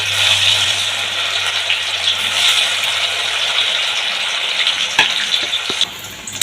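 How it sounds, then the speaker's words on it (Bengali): Slices of green banana frying in hot oil over a medium gas flame make a loud, close, continuous sizzle, with a few sharp clinks near the end. "এখানে কাঁচকলাটা ছেড়ে দিচ্ছি।"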